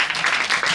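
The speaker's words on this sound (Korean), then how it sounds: "큰 박수로 맞이해주세요" Audience applause greeting a student speaker called onto the stage at a school event, a steady wash of clapping for under a second, fairly loud and close, with no talking.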